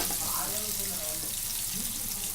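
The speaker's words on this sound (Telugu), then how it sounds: "చూసారా భలే ఫ్రై అవుతున్నాయి." Food fries in a pan over a medium flame with a steady, soft sizzling hiss that holds evenly throughout, fairly close and quiet.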